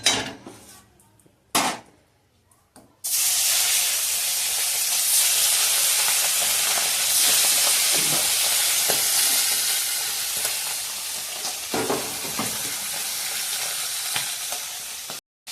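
Bhola fish sizzling and frying in hot oil in a home kitchen, a dense continuous hiss with occasional stirring clatter, loud and close, following a few seconds of quieter handling before the fish goes into the pan.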